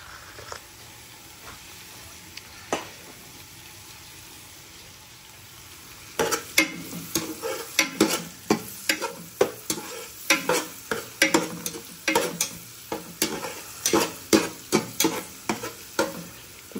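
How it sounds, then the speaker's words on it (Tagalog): Garlic browning in a pan for Filipino beef mechado sizzles softly, then from about six seconds a utensil stirs it in quick, repeated scraping strokes over a steady frying hiss. "Brown na yung ating garlic."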